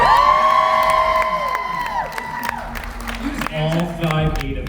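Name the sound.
crowd cheering at a Knotts Scary Farm panel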